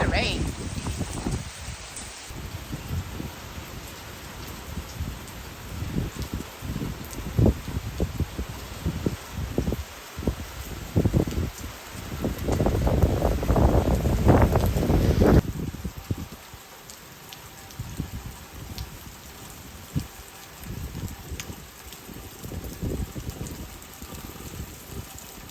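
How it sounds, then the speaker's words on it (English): Heavy rain from Hurricane Debby drums on the roof of a parked van, with gusting wind rising and falling; a loud surge builds midway, then eases back to a steady patter. "we're just hanging out in the van, just enjoying listening to the rain and the wind blow"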